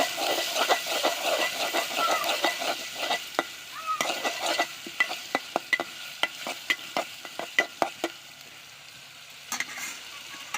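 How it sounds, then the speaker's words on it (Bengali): Onion and garlic paste with green chilli fries in a pan while being stirred, a soft sizzle under a run of sharp scraping and clinking strokes that slow and space out toward the end. "পেঁয়াজ বাটা রসুন বাটা তারপরে একটু লেড়ে চেড়ে দেবো"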